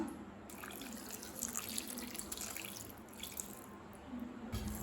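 A cup of water is poured into thick rava idli batter in a quiet kitchen. It makes a faint, steady trickling splash that lasts a few seconds.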